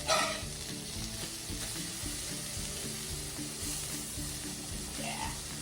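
Salmon fillets frying in oil after being flipped, an even close sizzle with rhythmic low clattering throughout and a short louder crackle at the start.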